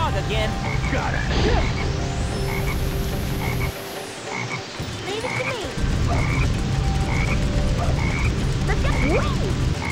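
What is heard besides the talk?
black frog croaking in Sonic Heroes video game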